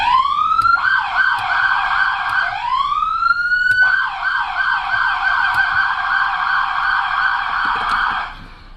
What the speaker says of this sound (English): The siren just simply cycles through the 3 tones.